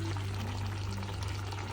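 A pot of crab roast boils on the stove, giving a continuous bubbling, watery wash with a low steady hum underneath, close by and even throughout.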